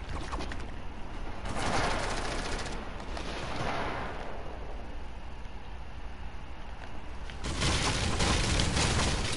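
Video game gunfire, sustained rapid shooting with a louder burst near the start and another surge near the end, steady and moderately loud with no talking.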